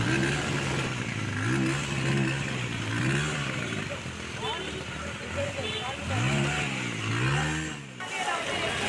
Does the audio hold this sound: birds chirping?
no